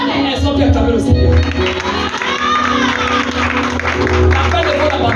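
A church congregation cheers and acclaims the Lord, a loud, sustained crowd roar with shouts and whoops and some clapping, over a preacher's voice.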